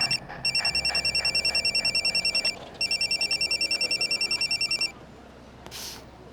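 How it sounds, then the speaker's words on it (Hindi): A telephone bell rings in rapid repeated trills, two long bursts separated by a brief pause, then stops, leaving faint background sound in a dramatic scene. "फोन।"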